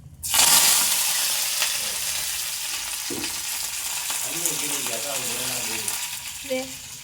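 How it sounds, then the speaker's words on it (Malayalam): Chili pork frying in hot oil, a loud steady sizzle that starts abruptly and continues throughout, with occasional stirring clatter and a faint voice in the background. "എന്നിട്ട് നമുക്ക് വറുത്തെടുക്കാം"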